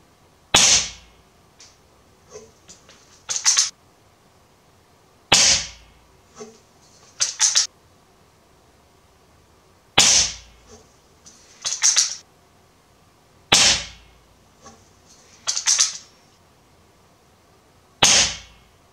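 Repeated shots from a Browning Buckmark URX airgun firing Meisterkugeln pellets at a target 6 meters away, each a sharp crack followed by a metallic clank and rattle a couple of seconds later, recurring at steady intervals with quiet between.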